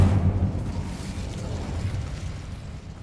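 Incendio fire spell in Hogwarts Legacy, a dense low rumbling whoosh of flame that swells at once and fades slowly over a few seconds, heard alone without speech.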